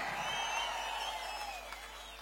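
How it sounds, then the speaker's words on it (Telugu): A crowd at a public rally in Kuppam cheers and claps, a steady, moderately distant wash of noise with voices rising above it and no pause throughout. "గట్టిగా చప్పట్లు కూడా చెప్పండి అవునని."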